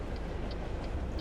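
A single locomotive runs past in American Truck Simulator, a brief, dense, loud rail rumble with light rhythmic clicking on top.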